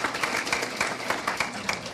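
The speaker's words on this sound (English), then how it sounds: "Let's give them a round of applause." Audience at a 1982 congressional district debate applauding, a short burst of moderately loud clapping with individual claps audible.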